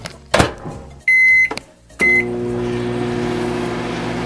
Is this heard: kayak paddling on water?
no